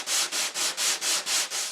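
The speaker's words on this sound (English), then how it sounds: "I prefer to use a sanding block" A hand sanding block rubs back and forth across the top edge of a faux stone panel, seven even, steady strokes in a quick rhythm, close and alone.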